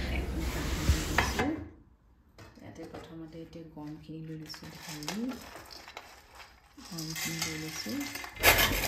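Desiccated coconut fries and is stirred in a pan for winter ladoo, giving a broadband sizzle with scraping at the start and end. A person talks through a quieter middle stretch.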